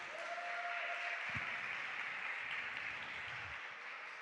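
A church congregation applauds together, a soft, steady wash of clapping heard from a distance with a faint hum beneath.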